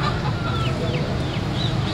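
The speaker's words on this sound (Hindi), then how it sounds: "शपाटर मुर्गी है, अंडे दे रही है, अंडे वाली मुर्गी है भाई" Chickens at a crowded Sunday bird market in Lalukhet, where laying hens are sold alongside mixed-breed chicks, with a dense, steady din of clucking and honking fowl calls and thin chirps rising over a constant low rumble of market noise.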